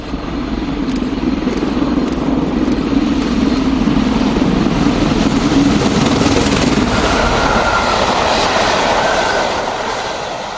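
Stanier steam locomotive 46233 hauls the Yorkshire Coronation past Ackworth on the main line, a loud, steady rumble of wheels and carriages that holds through the whole passage before easing slightly at the end.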